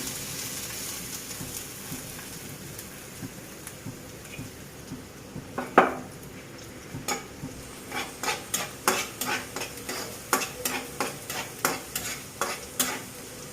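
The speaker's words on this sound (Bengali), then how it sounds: "কয়েক সেকেন্ডের মতো এভাবে ভেজে নেব পেঁয়াজটা।" Sliced onions, five or six of them, fry in oil in a pan for a chicken bhuna, with a steady low sizzle and a run of repeated stirring scrapes in the second half, alone with no talk.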